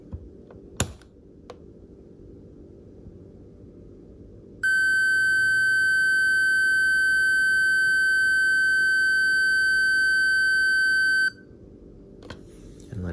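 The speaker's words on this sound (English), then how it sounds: "when you push it back in, you got to hold the button until it beeps" An Insteon plug-in device gives one steady, high-pitched electronic beep while being reset. The beep lasts about seven seconds over a quiet room hum, preceded by a couple of faint clicks.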